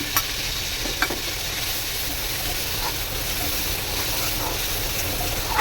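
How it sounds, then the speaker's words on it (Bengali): A paste of ginger, green chilli and cumin, with coriander and turmeric, sautés in hot oil in a home kitchen. It gives a steady, close sizzle with a few brief stirring scrapes and no talking. "এটা দিয়ে মশলাটাকে আমি ভালো করে কষিয়ে নেব"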